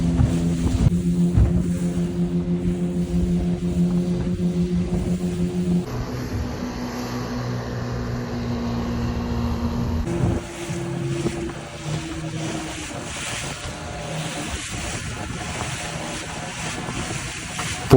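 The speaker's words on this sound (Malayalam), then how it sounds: "പുഴ ക്രോസ് ചെയ്യുമ്പോൾ ഡബിൾ എൻജിനിലാണ് ഓടുന്നത്." A fishing boat on the Perumathura river runs on twin engines while crossing, a steady low engine drone with wind and water wash, loud and continuous throughout, with no voices.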